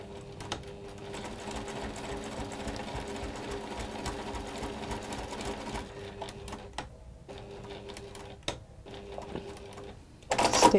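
A sewing machine stitches fabric in a steady run of rapid mechanical clatter for about six seconds, then continues in shorter bursts separated by brief pauses, ending with a louder burst.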